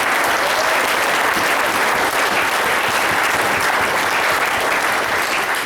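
Steady, dense applause from an audience at a local community event fills the whole stretch, loud and close with no pauses and no voices standing out.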